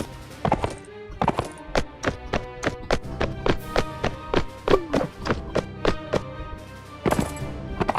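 Steady clip-clop of horse hooves in the game Mount & Blade: Warband, a brisk run of sharp knocks with a short pause midway, loud and close.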